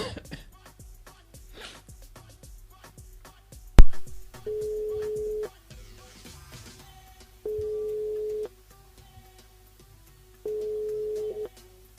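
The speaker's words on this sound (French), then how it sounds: "Sur le standard, on appelle Aurore du côté de Saint-Paul." Telephone line tone pulses while a radio host dials a listener on air: three steady beeps about a second long, each followed by a pause, after faint background clatter and a short loud knock.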